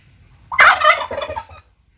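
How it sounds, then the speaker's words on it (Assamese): A domestic turkey kept at a house in Biswanath Chariali, Assam, lets out a single loud, close gobble of about a second, a rapid bubbling call that breaks a quiet background and then stops. "আৰু এয়া আমাৰ টাৰ্কি মুৰ্গী"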